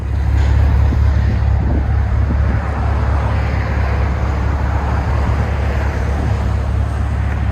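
A 2022 Ford F-350 with a 7.3L gas V8 and Borla XR-1 exhaust backs out, its steady deep exhaust rumble loud and close throughout with no talking.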